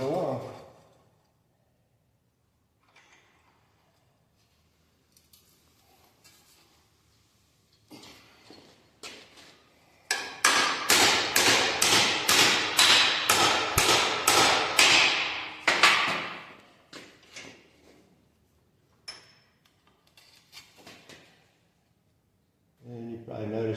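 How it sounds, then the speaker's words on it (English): Steel hammer blows land on metal clamped in a bench vise while a cab corner mount is shaped, a fast run of loud, ringing strikes in a burst after scattered lighter taps; someone talks before and after. "That was me actually hitting the jaw of the vise."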